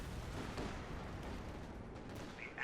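An artillery shell hit in Company of Heroes 2 lands as a dense low rumble of battle noise, continuous and moderately loud for the whole moment, with no talking.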